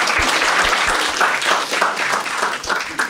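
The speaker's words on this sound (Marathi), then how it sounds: "एकदा टाळ्या वाजवा यांच्यासाठी." An audience at a Marathi stand-up comedy crowd-work show breaks into applause, a dense burst of clapping lasting a few seconds, fairly close and loud with no talk.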